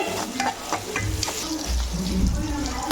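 A sprig of curry leaves dropped into hot oil for a Tamil anchovy fish gravy, giving a close, steady frying sizzle with stirring scrapes.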